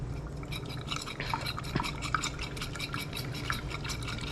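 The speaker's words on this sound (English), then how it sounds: "But first we're going to go ahead and whisk this egg up." A whisk beats an egg in a bowl, giving a steady run of quick light clinks and wet sloshing strokes at close range with no talk.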